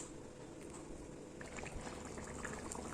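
A pot of vegetable curry with prawns, ridge gourd, potato and pumpkin, thinned with water, simmers quietly, producing a soft, continuous bubbling burble that grows slightly busier partway through, faint and with no one speaking.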